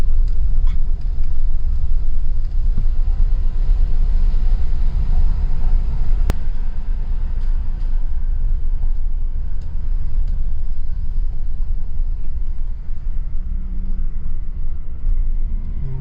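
A race car engine rumbles loudly and steadily from inside the cabin during a ride-along, a continuous low drone with no talk over it.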